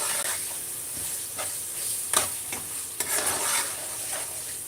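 Coriander stalks cooking in a tomato sauce in a pan, a steady sizzle and hiss with soft stirring scrapes and occasional louder bursts, close and continuous.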